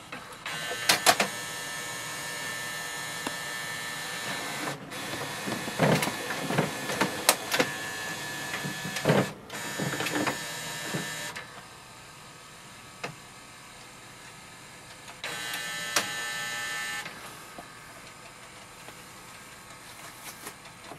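HP OfficeJet Pro 9020 printer running a scan: bursts of mechanical whirring and clicking from the scanner carriage, separated by short pauses, close and fairly loud, with no voices.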